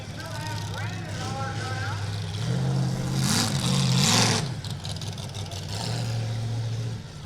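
A demolition derby car engine at the Erie County Fair in Sandusky, Ohio drones steadily and swells louder as it draws nearer, revving slightly, with a voice speaking over it throughout.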